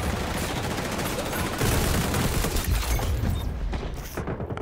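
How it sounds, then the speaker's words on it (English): Rapid gunfire in XDefiant crackles and booms from all sides, dense overlapping shots with a heavy low rumble, loud and continuous throughout. "in that gunfire, a bullets be coming from every direction"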